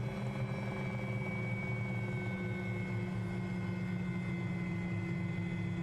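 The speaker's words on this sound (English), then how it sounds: "You can hear the rotor RPM changing." A Cowan Sim 500E helicopter's rotor hums steadily in flight in a simulator, a continuous droning engine and rotor whine with slight pitch shifts, no talking.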